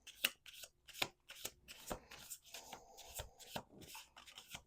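Tarot cards being shuffled up close in quick, repeated rustling bursts, with crisp riffling slaps and papery rubbing, and no talking.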